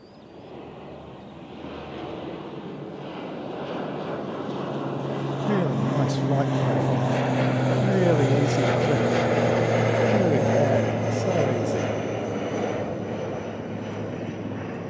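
A propeller aircraft on the Tauranga flight passes overhead at an airfield, its steady engine drone swelling to a loud peak midway and then easing off, with a continuous broadband roar under faint background talk.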